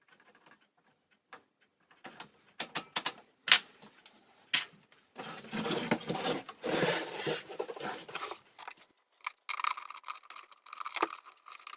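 Assembly of a late-1930s Clarson valve radio: the chassis is fitted into its cabinet and fixed with new screws and large washers, giving close clicks, knocks and rubbing scrapes, then longer bursts of scraping handling noise, with no talk.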